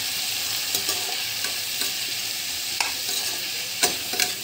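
Spices, black pepper and garlic-ginger paste being stirred into chicken chili in a hot pan, a steady close sizzle with scraping stirring strokes at irregular intervals, no talking.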